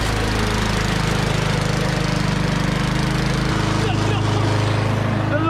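A wood-gas-powered lawn mower engine runs steadily and loudly up close, its low droning hum shifting pitch slightly partway through.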